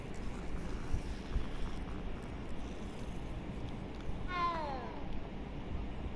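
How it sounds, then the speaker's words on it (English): A black cat in the video game Hogwarts Legacy gives a single short meow partway through, set against a steady low ambient wash with no talking. "it's a black kitty cat."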